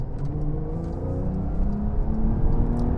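Porsche 992 with a seven-speed manual gearbox, engine note rising and dropping through gear changes, a close mid-pitched rumble with shifting tones and no talking.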